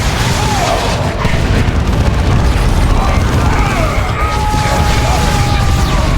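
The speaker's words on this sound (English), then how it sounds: "Grenade." Grenade blast in the Warhammer 40,000: Dawn of War 2 Chaos Rising strategy game, a loud continuous booming rumble layered with in-game battle noise and voices throughout.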